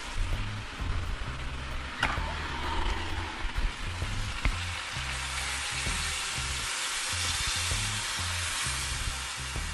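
Loud, steady sizzling and crackling fill the clip, with a hiss of boiling water poured onto chicken in a hot stew pot and a low rumbling undertone throughout.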